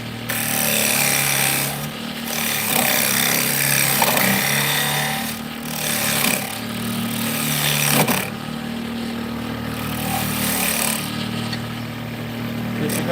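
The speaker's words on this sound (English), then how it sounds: "We're going to cut us a temporary tenon on the back of this." A temporary tenon is cut on the back of a wooden workpiece with a loud, continuous power tool that grinds and rattles steadily, with brief dips and surges in intensity as the cut goes on.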